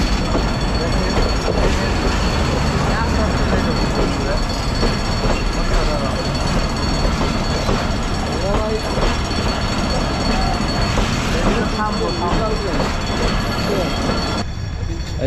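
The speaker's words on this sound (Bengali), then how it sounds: "ট্রেন কিন্তু আইসা পড়ছে" Train approaching and running past on the rails, a loud continuous rumble with rattling wagons and intermittent wheel squeal, heard up close for the whole stretch before dropping away at the very end.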